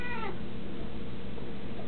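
A cat meows once, a loud close cry with a falling pitch at the start, followed by steady low background hum.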